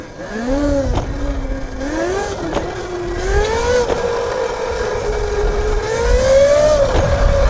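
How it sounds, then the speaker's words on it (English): An electric dirt bike fitted with a high-torque ETM motor whines up and down in pitch as it repeatedly accelerates and brakes on wet grass, a steady electric tone swelling and dipping without speech. "all I'm doing right now is accelerating and then squeezing the rear brake to try and bed it in"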